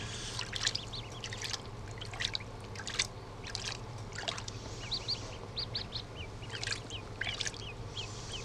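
Duckling being washed, with water trickling and splashing under repeated small high peeping calls from the young ducks, close and moderately loud, with no talk.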